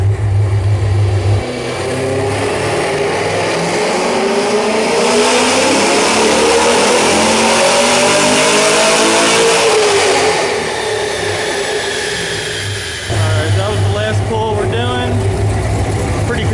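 A Camaro engine on a dyno roars and revs hard, sweeping upward in pitch to a loud peak, then drops back to a rough idle before climbing again.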